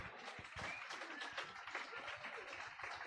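Women in a church audience clap together in a soft, steady burst of applause that runs through the whole moment, fairly quiet and slightly distant.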